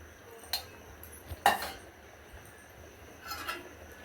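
A spoon clinks and scrapes against a pan as chili powder and spices are stirred into palak paneer, giving a few sparse knocks over a quiet background.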